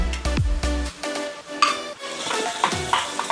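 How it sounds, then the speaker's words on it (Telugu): A spoon stirs and scrapes a pan where ginger-garlic paste fries with onion and green chili, giving clinks of metal on metal over a soft sizzle, with irregular close-up strokes and no talk. "జింజర్ గార్లిక్ పేస్ట్ వేసుకున్న తర్వాత ఒక 2 మినిట్స్ ఫ్రై చేసుకొని"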